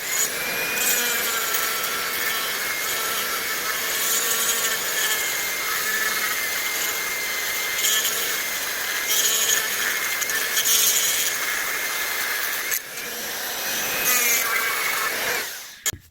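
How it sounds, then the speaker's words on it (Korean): A grinder working the edges of a wooden slingshot handle gives a steady high whine mixed with abrasive scraping, loud and continuous, before it stops abruptly near the end. "다시 그라인더를 가지고 작업을 해주시는데, 여기 이제 모서리를 갈아낸다는 생각으로 쭉 갈아주시고"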